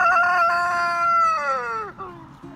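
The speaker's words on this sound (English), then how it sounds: "As I was saying before the rooster crowed" A rooster crows nearby, one long loud cock-a-doodle-doo that falls in pitch toward the end, followed by a few soft clucks.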